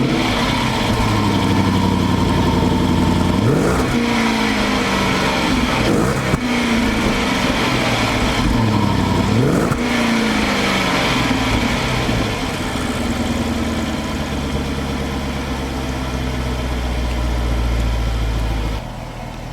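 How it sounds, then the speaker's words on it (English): A Jaguar XF with a 5.0L V8 starts up and settles into a steady idle, with a few engine swells early on before a constant, fairly loud rumble. "Now let's start up the car and give you an idea of what it sounds like."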